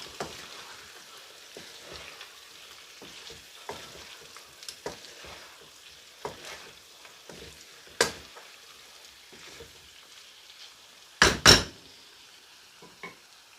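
Green chilies are stirred into aloo gobi frying in a pan. A soft, steady sizzle runs under scattered spoon scrapes and taps, with a pair of sharper pot clanks near the end and no talking.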